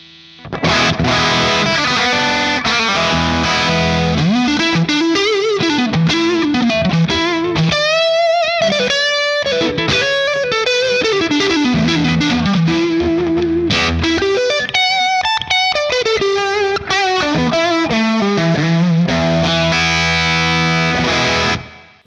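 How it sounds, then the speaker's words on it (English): Electric guitar run through a Tube Screamer overdrive pedal into a cranked amp, a crunchy distorted tone playing bends, fast licks and sustained notes, loud and continuous with no talking. "I'm gonna put the overdrive down, raise the level a bit."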